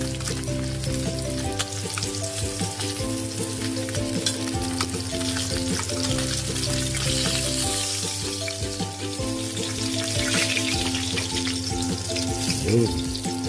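Fish frying in hot oil, a steady dense sizzle with crackling pops running the whole time, close and fairly loud, with music playing over it and no talk.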